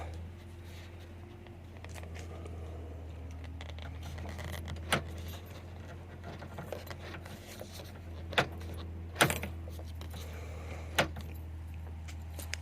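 Interior door lock and handle of a Mazda 323C being worked from inside, giving sharp clicks and clunks scattered over a low engine-like hum, with small rattles between them.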